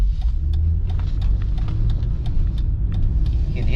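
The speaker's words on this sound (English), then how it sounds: "You can hear it shifting." A 2001 Mercedes-Benz ML430 engine hums and rumbles steadily from inside the vehicle in limp mode, with a subtle change in pitch as the automatic transmission shifts gears; no talking.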